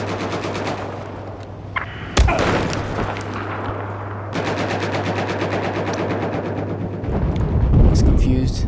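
Loud automatic gunfire aimed at a tank in Battlefield 4, a fast continuous stream of shots broken by one heavy blast early on, with a steady low hum of battle running underneath and a rising rumble at the close.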